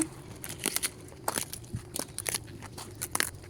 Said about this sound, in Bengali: এই যে ফুলকপি তুলছি আমি